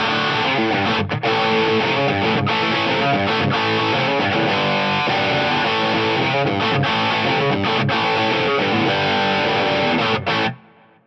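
Electric guitar played through an Axe-Fx III using the Sir Riot drive model, set to GE mode with the distortion turned down. It sounds loud and continuously driven, with strummed chords and a brief choked pause, and it stops abruptly near the end.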